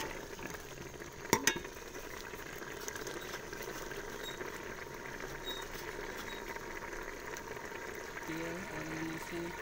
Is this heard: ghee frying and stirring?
yes